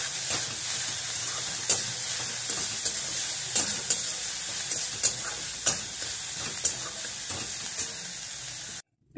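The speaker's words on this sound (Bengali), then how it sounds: "এবার আমি পেঁয়াজগুলোকে নেড়ে চেড়ে ভেজে নেব" Sliced onions with a little salt stirred and fried in a pan for a banana kofta curry, giving a steady close sizzle with repeated scraping stirs of a spoon against the pan, then a brief stop near the end.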